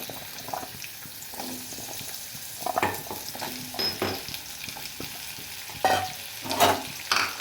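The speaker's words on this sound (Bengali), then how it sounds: "এই কড়াই দিয়ে ভালো করে আমি ভেজে নেব।" Thinly sliced potatoes fry in a wok and get stirred, a steady sizzle broken by scraping strokes and a few louder clatters near the end.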